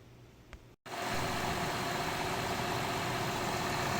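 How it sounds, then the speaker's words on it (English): A Honda 3.6L engine in a second-generation Acura MDX idles just after a water pump and timing belt job, a steady, even hum that starts abruptly after a brief drop and holds constant. "went ahead and started the engine"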